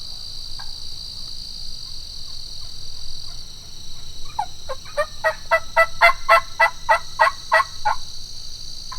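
A large flock of Osceola wild turkeys, longbeards among many jakes, gobbling in a rapid run of repeated calls that build and fade, at moderate distance over a steady high insect drone.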